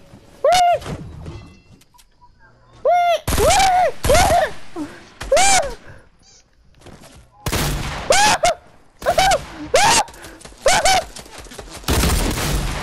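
Gunfire in Fortnite playground mode, with sharp, loud shots and quick bursts repeating every second or two, each with a ringing tonal tail and short gaps between volleys, heard close.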